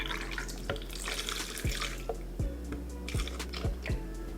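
Oat milk poured from a carton into a blender for a peanut butter cold brew coffee smoothie, a steady liquid trickle with a few soft drips and splashes close by.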